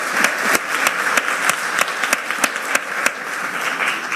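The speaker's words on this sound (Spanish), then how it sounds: "Un fuerte aplauso, por favor." Steady crowd applause at a public gathering with children, with sharp individual claps standing out from the continuous clapping.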